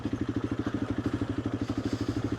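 A motorcycle engine runs on a rough trail along Buckhorn Road, producing a steady, fast, evenly pulsing thump that is close and fairly loud, with no talk.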